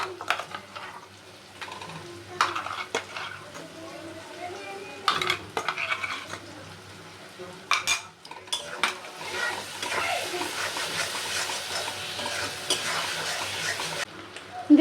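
Spice paste with Kashmiri chili powder scraped and stirred in a pan, spatula knocks at first, then a loud, steady sizzle of frying in the second half, close up with no talking.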